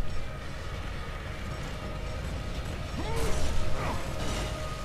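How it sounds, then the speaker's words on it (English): A crank and lever mechanism in the video game God of War II, steady mechanical grinding and creaking with a rising ratchet squeal near the end, no talk. "Wind this crank back as far as you can go. And then pull the lever, slowly, of course."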